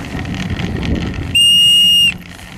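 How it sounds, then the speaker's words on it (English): After a stretch of low background rumble, a second jacket-mounted snowboarding whistle gives one shrill, steady blast lasting under a second before stopping abruptly. "Here's the other whistle."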